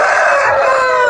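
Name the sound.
fighting roosters crowing at a farm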